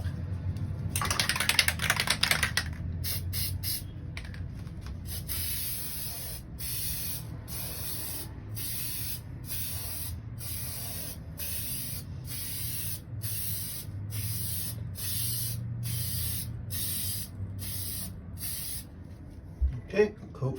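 Plasti Dip sprayed from an aerosol can onto a Pelican case, a close hissing burst followed by a long run of short, rhythmic spray pulses, with a faint low hum beneath.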